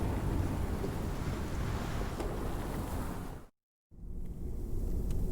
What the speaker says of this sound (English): 4 weeks the storm had raged on.